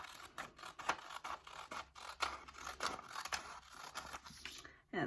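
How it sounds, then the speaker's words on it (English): Scissors cut a paper square for an origami crane, a quick series of close, papery snips and scraping slides along the sheet without pauses. "you can trace a line right here that you can cut. Like that, and we'll cut it out."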